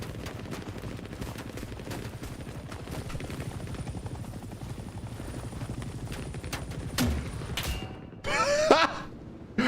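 A helicopter in the video game Hell Let Loose Vietnam, set in jungle combat, gives a steady rhythmic rotor thumping throughout. Louder bursts of gunfire and explosions break in near the end.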